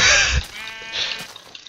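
Sheep bleating in Minecraft, one clear drawn-out bleat near and fairly loud, followed by a shorter fainter one.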